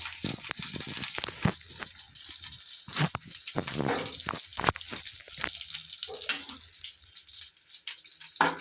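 Raisins and cashews frying in ghee, a continuous close, hissing sizzle with small crackles and a few louder pops and clatters, steady throughout.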